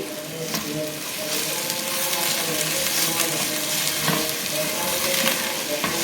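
Garlic, ginger and green chili paste sizzling steadily in a pan over a medium flame for a black chickpea curry, with occasional scraping stirs, close and continuous, no talking.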